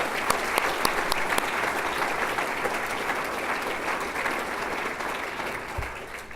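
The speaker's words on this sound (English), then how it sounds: "Let's give them a round of applause for all their help." Audience applause at an annual community foundation dinner, a dense, steady clapping from a crowd indoors that holds loud and even for several seconds, then eases slightly toward the end.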